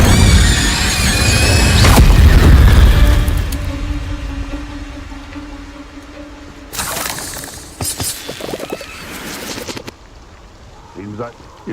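An Incendio fire spell cast in Hogwarts Legacy: a loud, roaring burst of flame for about three seconds, then a quieter lull before a second cluster of crackling, shattering bursts, with voice-like game sounds mixed in.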